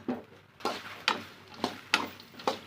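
Sliced okra dry-roasting in a pan with no oil, heard as about six evenly spaced scraping stir strokes over a faint, low sizzle, close and fairly quiet, with no talking.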